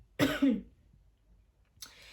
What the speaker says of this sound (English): when you cough, you close your mouth